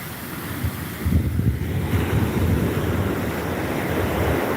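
Surf rolling onto a narrow beach at high tide, a steady roar of breaking water mixed with wind buffeting the microphone, close and continuous with no voices.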